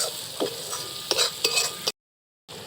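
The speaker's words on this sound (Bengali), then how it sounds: "মশলাগুলোকে দিয়ে এবার ভালো করে কষিয়ে নিতে হবে" Cumin and chili powder masala stir-fried in a pan, a close sizzling hiss with several spatula scrapes, cutting briefly to silence before the frying resumes.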